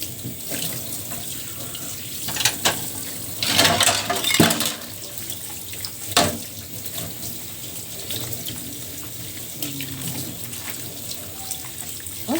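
Dishes being washed under a running kitchen tap, a steady stream of water with clinks and splashes rising and falling over about twelve seconds, close and fairly loud, with no talking.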